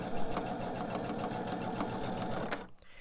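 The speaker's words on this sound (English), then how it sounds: "I'm going to sew nice and extremely slow to make sure that my needle goes in right where my points are" A sewing machine slowly stitches a quilt block, its needle pulsing in a steady, even rhythm up close before stopping abruptly near the end.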